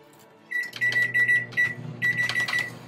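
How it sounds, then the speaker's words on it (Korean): A microwave oven with a water-soaked pencil inside gives a run of short electronic beeps over a steady low hum, heard close and fairly quiet. "이거를 전자레인지 돌려보자."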